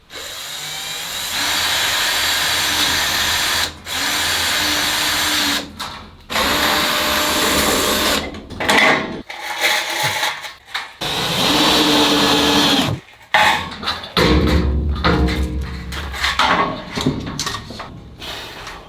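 A power drill drives screws into wooden framing inside a shipping container, whirring in repeated bursts of several seconds each, separated by short silent pauses, close and loud.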